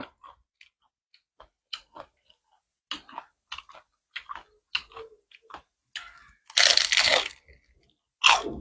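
Fried spring rolls and fried corn crunched in the mouth, a few soft crisp bites at first, then a loud dense burst of crunching near the end, close and with no talk.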